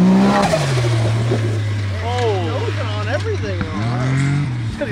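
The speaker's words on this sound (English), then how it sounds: "You see this car do the old X3 rear end shuffle around that berm right there." A Can-Am X3 side-by-side races around a berm and over a jump on a dirt track, its engine droning steadily with shifting pitch beneath excited talk close by.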